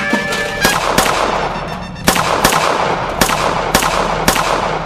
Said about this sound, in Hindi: गोली चलाइए